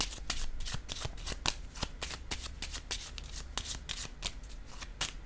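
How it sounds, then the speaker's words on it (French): A deck of playing cards being shuffled and handled up close before a card is laid down, a dense rapid run of crisp flicks and riffles with no talk over it. "Je vais déposer une carte ici."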